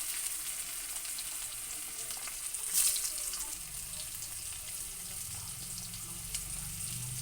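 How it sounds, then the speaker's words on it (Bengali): Carrots lightly frying in a pan with cardamom, black cardamom and cinnamon, a steady soft sizzle with faint stirring and a brief louder crackle partway through, no voices. "এবার গাজরগুলো একটু ভেজে নেব হালকা।"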